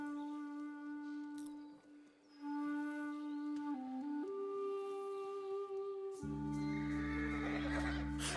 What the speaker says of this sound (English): I don't want to hurt the horse.